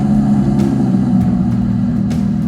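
An Audi R8 engine runs loud and close with a steady mid-pitched drone, a few brief sharp blips of revving breaking through the constant hum.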